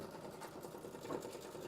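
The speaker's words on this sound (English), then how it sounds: "the little quilt that the sewing machine is sewing" A sewing machine stitches a small quilt, likely embroidering through stabiliser in a hoop, giving a steady, continuous mechanical whirr with a fine rapid rhythm at moderate level, close by and without talk.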